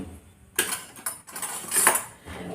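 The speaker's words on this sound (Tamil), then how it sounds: "மஞ்சள் தூள் போட்டு நல்லா கலக்கிட்டு" Turmeric powder stirred into salted water in a metal pot, with close, clattering spoon strokes and scrapes against the pot in several quick bursts and no talking.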